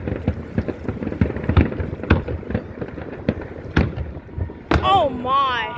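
Fireworks at a show in Antioch, California pop and crack in a rapid scattered series of sharp bursts, some louder and closer, with voices talking excitedly over them near the end.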